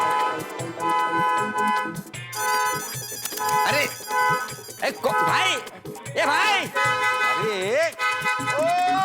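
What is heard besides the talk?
car horn honking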